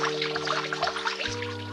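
Water pours from a pitcher in a short, bubbly trickle that sounds close and moderately loud, over a sustained musical backing.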